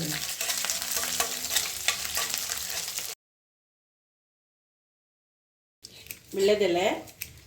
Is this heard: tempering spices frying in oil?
yes